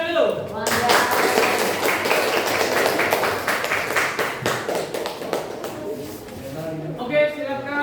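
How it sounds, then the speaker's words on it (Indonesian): A group of people in a classroom bursts into dense, fast hand clapping that lasts several seconds and then fades, with voices talking over and after it. "Oke, tepuk tangan dulu"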